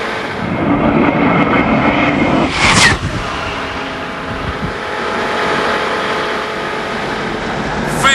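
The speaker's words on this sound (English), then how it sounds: "For the first time, I nailed the throttle to the floor in top gear." A car's engine is held at full throttle in top gear during a high-speed run, a loud continuous drone with a brief sharp burst near the middle, steady through to the end.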